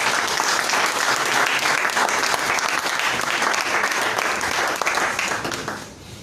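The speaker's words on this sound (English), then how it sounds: "Please, a round of applause for" Audience at a discussion event applauding a speaker, dense, steady clapping from many hands that fades out at the end.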